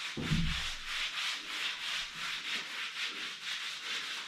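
An exfoliating LUSH cosmetic is rubbed onto skin, making soft rhythmic scrubbing strokes, close and fairly quiet, repeated at an even pace after a brief low thump at the start.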